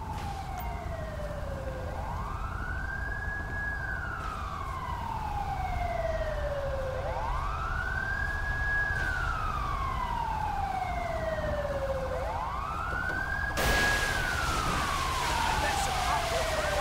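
A wailing fire truck and ambulance siren in Grand Theft Auto V rises and falls in slow, repeating cycles, loud and steady, over a constant background rumble.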